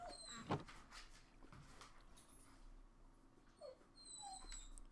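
A puppy whimpers and yelps in short, high cries, with a few soft knocks and bumps in a quiet room.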